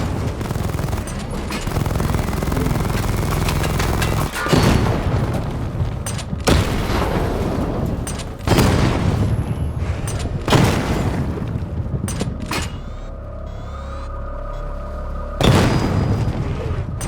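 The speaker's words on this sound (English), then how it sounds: "Destroy targets to charge up weapon energy and activate missile barrage" Heavy missile barrage explosions in Batman: Arkham Knight, repeated deep booms bursting every couple of seconds over a continuous rumbling battle bed, loud and close, with no talk.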